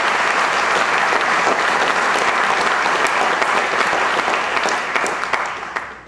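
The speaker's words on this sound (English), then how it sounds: "Let's give a big round of applause for Bill." A historical society audience gives a warm round of applause for a speaker, dense clapping that stays strong for several seconds before tapering off into scattered claps.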